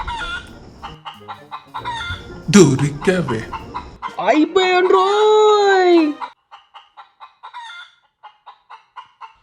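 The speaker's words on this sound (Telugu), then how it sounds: "కోడిని ఎంత కష్టపడి పట్టుకున్నాను తెలుసా అక్క?" A just-caught chicken squawks and clucks loudly in a long, agitated burst, then settles into a string of soft, evenly spaced clucks, with someone speaking excitedly before it.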